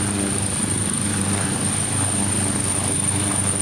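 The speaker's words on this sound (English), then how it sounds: "The orange helicopter ready to go when an ambulance and police rushed to the pad." An orange air ambulance helicopter runs steadily and loudly on a landing pad beside emergency responders, its engine and rotor drone constant with no talk.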